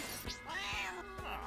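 A cartoon cat meows and lunges in the mobile game Mr. Bean Around the World, a few quick close yowls in a short burst with no talk.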